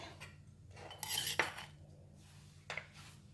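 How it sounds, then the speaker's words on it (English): A mortar and pestle crushes halved lemongrass stalks, giving a few close knocking and grinding strikes with quiet gaps between them and no talking. "I'm just going to use the mortar and pestle to crush them"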